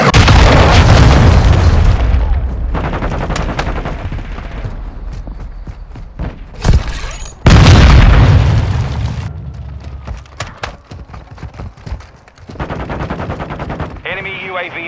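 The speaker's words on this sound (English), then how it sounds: "Hostile cruise missile launched." Cruise missile strikes in Call of Duty Modern Warfare 2 multiplayer: heavy booming explosions with rumbling tails, mixed with bursts of rapid gunfire and sharp cracks, loud and close, with game voice callouts in between.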